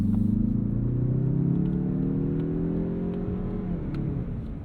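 A 2022 Mazda 3 Turbo hatchback with a 250-horsepower engine accelerates hard, its engine note climbing smoothly in pitch as a loud, steady drone heard from inside the car.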